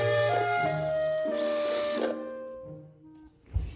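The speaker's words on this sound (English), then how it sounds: "We're drilling more cups because our drill battery died." An electric drill's motor whines at a shifting pitch, speeding up and slowing in short bursts while drilling plastic cups, then winds down before a brief clunk.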